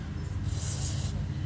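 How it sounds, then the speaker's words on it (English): Aerosol cleaner sprayed through the carburetor jets of a Troy-Bilt Colt FT tiller, one short hissing burst over a low hum. "Alright, so I'm going to spray all these out."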